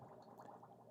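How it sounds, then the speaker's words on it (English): Bubbling water from a small indoor fountain in an art space, a soft continuous gurgling with repeated burbles, steady and moderately quiet in the background. "I have a bubbly fountain going on in the background"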